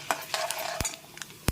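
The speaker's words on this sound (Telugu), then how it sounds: "పోపు వేగిపోతుంది" Dried red chillies and cumin seeds frying in hot oil for a tempering, with crackling pops, a soft sizzle and a few sharp clinks of a spoon against the pan, close and alone.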